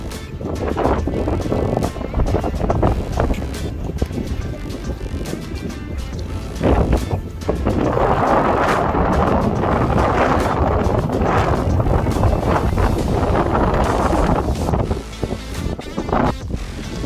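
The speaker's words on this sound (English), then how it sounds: "Wind's blowing without sand for once." Wind blows steadily across open desert on a stage of the Marathon des Sables, a loud continuous roar buffeting close to the microphone, with gusts swelling and easing throughout.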